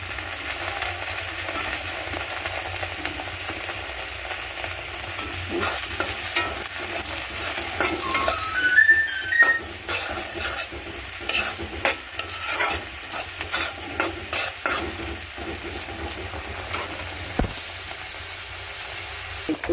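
Onions and tomatoes frying in a pan for chicken curry, a low sizzle under frequent scraping stirs and spoon knocks, with irregular bursts of activity throughout.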